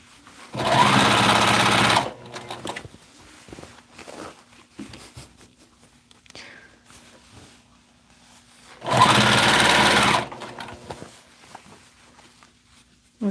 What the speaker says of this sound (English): Okay, I fold it and stitch it